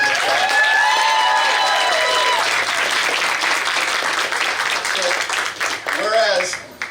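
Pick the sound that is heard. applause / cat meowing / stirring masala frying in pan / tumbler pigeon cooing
applause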